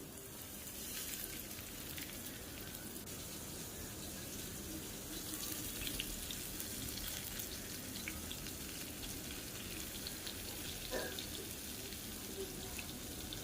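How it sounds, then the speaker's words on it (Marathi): A continuous, even hiss of Bombay duck fish shallow frying on a griddle, close by and fairly quiet throughout, with no talking. "त्याला आपण शॅलो फ्राय करून घेऊया"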